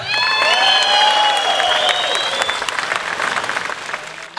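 Audience applause fills a comedy concert hall, a dense steady clapping from a large crowd with a few whistles, holding loud for several seconds and then slowly thinning out.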